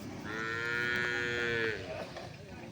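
A single long, loud moo from a native breed cow at a rural cattle market in Palayakottai, close by, over a low background murmur of the market.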